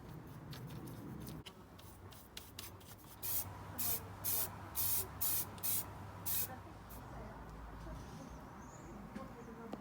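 A series of about eight short, sharp hissing bursts from an aerosol can spraying rust protection onto a Ford ST170 car part, close and distinct, following quieter handling rustles.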